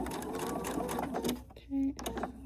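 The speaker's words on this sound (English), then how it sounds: "And I am going to back stitch." A sewing machine runs a short back stitch, a brief buzzing burst that follows someone talking close by.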